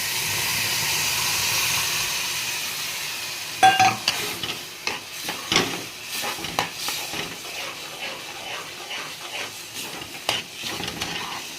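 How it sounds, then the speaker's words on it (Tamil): Ground pomegranate juice poured into roasted semolina for kesari hisses in a soft, steady sizzle, then gives way to uneven stirring scrapes and splutters in the pan. "இப்போ அரைச்சி வச்ச மாதுளை ஜூஸே ஊற்றிக்கோங்க"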